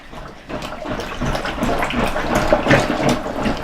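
Plunger churning cloth diapers in a tall water-filled garbage can, giving repeated sloshing, gurgling water surges at close range with no talk.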